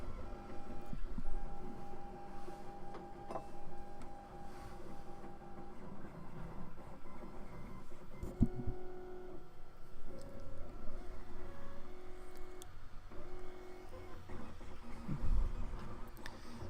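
A 3D printer prints a filament spool clip, its stepper motors humming and whirring in shifting tones with small clicks, moderately quiet and steady in an indoor room.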